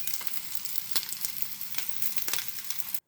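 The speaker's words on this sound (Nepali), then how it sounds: "यसरी फ्राई गर्दैछु।" Homemade momos deep frying in hot oil, a dense close sizzle with crackling pops and bursts throughout, stopping abruptly at the end, with no voices.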